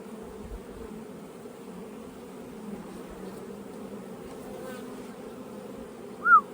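Honey bees drone in a bee yard during hive work, a steady low buzzing hum held throughout at moderate, even loudness, with a brief higher chirp near the end.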